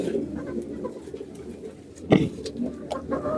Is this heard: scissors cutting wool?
no